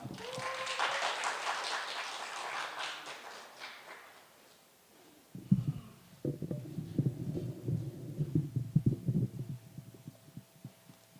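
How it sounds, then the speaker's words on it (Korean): An audience at a church memorial service gives a short spell of clapping after an earlier stretch of quiet murmur, the claps moderately close and uneven. "박수 부탁드리겠습니다"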